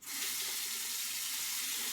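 Tap water running steadily into a sink to rinse out a neti pot bottle, a continuous close hiss and splash with no talking.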